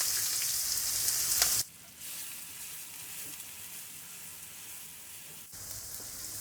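Finely chopped onions hit hot mustard oil with a bay leaf and cumin for Punjabi rajma masala, setting off a loud, hissing sizzle that drops off sharply for a few seconds, then surges back.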